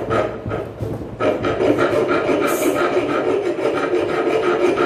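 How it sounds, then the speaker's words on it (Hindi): A hand file rasps steadily across the edge of a 12 mm mild steel plate to cut a bevel, with close, continuous back-and-forth strokes and no talking. "असी रेती का इस्तेमाल करांगे।"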